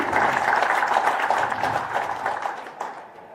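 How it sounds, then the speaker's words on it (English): Applause from the audience at a live International Day for Women in Maritime event in Kisumu, a brief stretch of massed clapping that tapers off. "So a round of applause for them."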